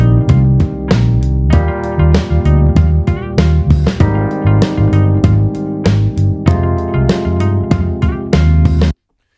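Music loop built in Ableton from programmed drums, bass, Rhodes electric piano and a recorded, quantized guitar lick, playing with a steady punchy rhythm and bright chordal stabs, loud and upfront, cutting off sharply near the end.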